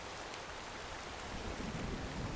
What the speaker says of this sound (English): this rain is not helping matters